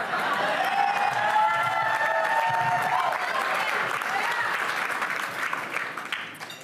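Audience at a public service awards ceremony breaking into loud, sustained clapping with scattered cheers and whistles, the applause holding steady before thinning out toward the end.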